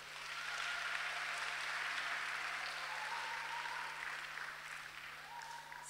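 A church congregation at an evangelistic service applauds in steady, sustained clapping that sounds somewhat distant and roomy, continuing evenly for several seconds.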